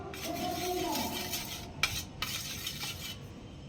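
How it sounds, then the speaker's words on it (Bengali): A spoon spreads cooking oil around a pan before eggs go in for an omelette on a rooftop. There is soft, faint scraping and rubbing with a couple of light metallic taps, and no voices. "তেলটাকে চামচ দিয়ে একটু করে দাও"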